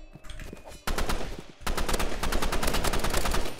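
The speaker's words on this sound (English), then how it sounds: "we're nailing him with some shots" Gunshots ring out in the Roblox game Rivals, first a few scattered shots, then rapid continuous bursts of automatic fire, fairly quiet in the mix with no talk.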